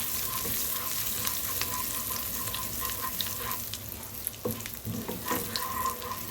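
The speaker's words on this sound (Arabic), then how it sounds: "هناخد منه شوية كده ونحطهم في الطاسة وننزل عليهم بمعلقة من الثوم المفروم وشوية من الكزبرة" Minced garlic and coriander fry in onion oil in a pan for Egyptian bessara, giving a steady, close, crackling sizzle with occasional stirring clicks and no talking.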